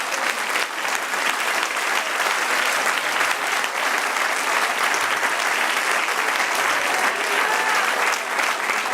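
A church congregation at a Spanish-language service applauds in praise of the Lord, a steady, dense wash of clapping from many hands that holds evenly for the whole stretch, with no voices standing out above it.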